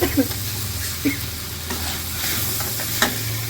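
Rice being stirred and fried in a pan for khichuri: scraping, stirring strokes over a steady, close sizzle, with a few sharper clinks of the spoon against the pan.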